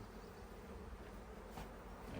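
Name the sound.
Saskatraz honey bees buzzing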